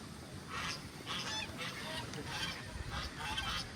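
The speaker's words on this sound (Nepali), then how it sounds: "हाँस करा" Geese or ducks honk repeatedly at a trout farm, a run of loud close calls over steady background noise with no talking.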